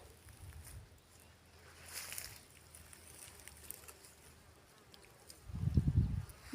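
Faint buzzing of bees working over a field of St John's wort outdoors, steady and low, with a louder low rumble near the end.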